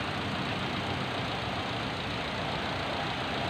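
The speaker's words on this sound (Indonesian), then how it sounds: "Kemudian kita dengarkan suara mesin." A Mitsubishi Xpander car engine idles with the hood open, a steady, even hum continuing with a broad rushing tone and no voices.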